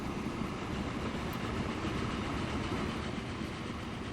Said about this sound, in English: This train picks that up.